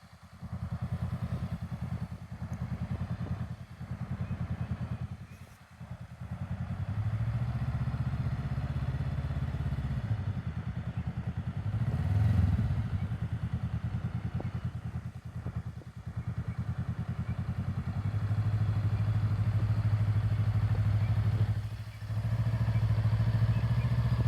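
A motorcycle engine runs steadily during a riding lesson, idling and rising in brief revs with a few dips as the clutch is worked, fairly close and continuous.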